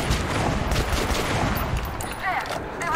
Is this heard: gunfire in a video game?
yes